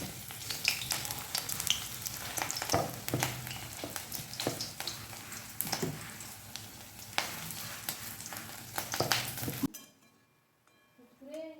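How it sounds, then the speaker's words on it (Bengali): Vegetable-leaf fritters (bora) frying in hot oil, a steady loud sizzle with sharp crackles and pops running continuously, then cutting off abruptly near the end to near silence. "এই দেখো বড়াগুলো সব ভাজা হয়ে গেছে"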